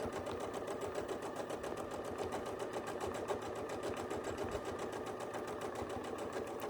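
A sewing machine stitching free-motion quilting curves runs steadily and fast, its needle producing a continuous, even rapid chatter with no pauses, close and clear.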